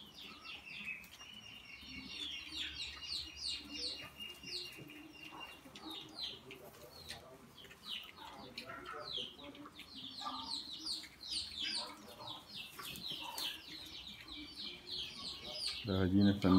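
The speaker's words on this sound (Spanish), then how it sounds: "Las gallinas también comen moringa." Chickens cluck among chirping birds on a farm where pigs are fed moringa, a steady background of fowl calls running the whole time at moderate distance.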